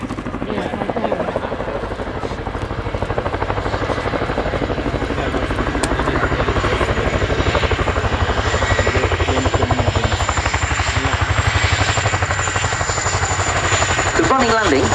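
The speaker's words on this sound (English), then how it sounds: "The running landing, or two-wheel taxi, is a skill that is unique to the Chinook helicopter" Loud, steady thrum of an RAF Chinook's tandem rotors at an airshow, deep rhythmic chopping, close and continuous, a turbine whine riding above it throughout.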